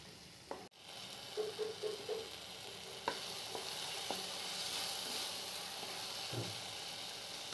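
A paste of tomato, ginger and chilli sautés in a pan for vegetable khichuri, hissing steadily after a sharp clatter, with scattered scrapes and taps of stirring close by.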